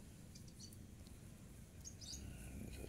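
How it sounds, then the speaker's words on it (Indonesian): Faint birds chirp in short, scattered bursts over a quiet low rumble of outdoor ambience. "ini udah kelihatan suara burung-burung di sini berkicau"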